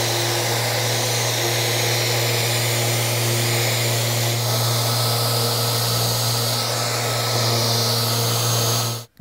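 Power sander working a wooden serving tray with 180-grit paper, a loud continuous motor drone with gritty abrasive noise, steady throughout before cutting off at the end.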